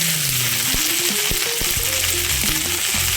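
Curry leaves and drumstick leaves hit hot oil in a pan, giving a loud, steady, dense sizzle with crackling pops and faint stirring throughout, no voices.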